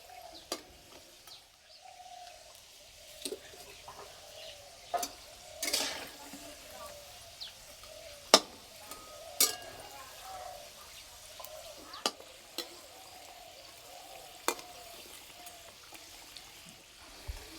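A cauliflower snack fries gently in oil over low heat, giving a faint, steady bubbling sizzle broken by occasional sharp pops and clicks.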